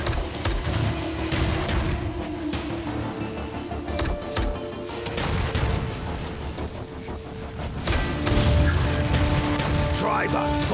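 Iron Marines battle gunfire, a steady stream of rapid shots and booms running under continuous mechanical and electronic game noise, while voices call out commands.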